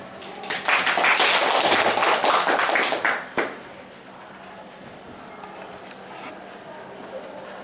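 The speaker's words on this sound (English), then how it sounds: "let's give a warm applause to welcome him" An audience at a conference bursts into applause to welcome a speaker, with loud, dense clapping for about three seconds that stops abruptly, leaving a quiet room with faint murmuring.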